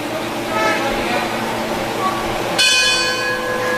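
A ring bell clangs at a wrestling show with bright, ringing tones over constant crowd noise and commentary, and a sharper, louder strike near the end.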